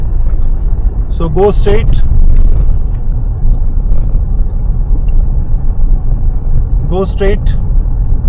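A car drives along a quiet residential street during a driving lesson, its engine and road noise rumbling steadily and close throughout while an instructor gives brief directions.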